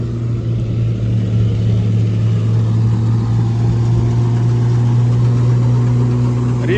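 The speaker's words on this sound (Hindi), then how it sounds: "बढ़िया परफॉर्मेंस के साथ में ये ट्रैक्टर चल रहा है।" A John Deere 5055E tractor, fitted with 14-inch tyres instead of 16, runs with a 64-inch Channy straw reaper attached, giving a loud, steady engine drone with a constant low hum and no talk over it.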